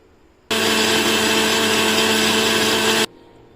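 An electric blender purees cooked dal with extra water for a seven-month-old baby, a loud steady whirring motor running about two and a half seconds, starting and stopping abruptly, close up.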